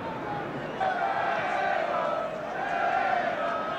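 A big football crowd at Ninian Park, Cardiff, at a 1972 Wales v England match roars as one steady, dense wash of voices that swells midway and holds, heard from within the stadium.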